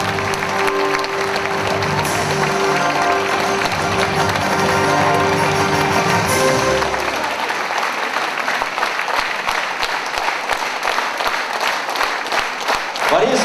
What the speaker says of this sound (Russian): Давайте мы бурными аплодисментами поприветствуем